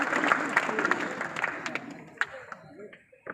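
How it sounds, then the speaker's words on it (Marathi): Scattered applause from a small crowd at a book discussion event, loud at first and then thinning out to a few last claps. "आपण जोरदार टाळ्या वाजवून त्यांचं अभिनंदन करावं"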